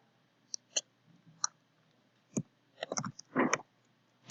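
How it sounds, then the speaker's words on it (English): Scattered, quiet clicks and taps of someone typing on a keyboard, arriving in irregular short bursts with pauses between keystrokes. "Guessing she's typing?"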